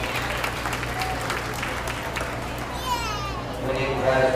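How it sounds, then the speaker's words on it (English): An audience at a beef cattle show claps for a young exhibitor heading into the champion drive, moderate applause mixed with crowd chatter and children's voices, with a loud background hum. "Let's give this young man a round of applause as we get into our champion drive."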